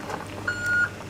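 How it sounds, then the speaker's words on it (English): An electronic device sounds a single thin, steady beep lasting under half a second at moderate volume over quiet outdoor background at a van camp near cliffs. "that's just gonna beep"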